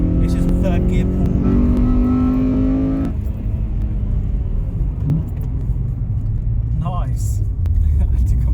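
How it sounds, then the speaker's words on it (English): A Honda Accord Euro R CL7 pulls hard in third gear on a country road, its engine note climbing steadily for three seconds before cutting off, leaving road and tyre rumble with brief speech over it. "so this is 3rd gear pull."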